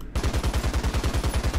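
Machine gun fire in the War Thunder video game, a loud, steady rapid burst of evenly spaced shots with no pauses, up close.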